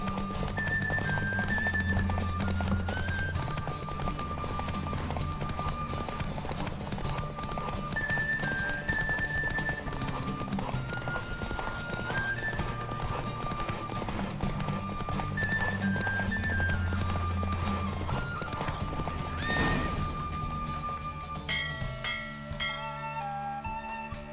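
Steady galloping hoofbeats drum on without pause in The Witcher 3: Wild Hunt horse race, mixed with a looping melodic tune and a brief whinny-like burst near the end.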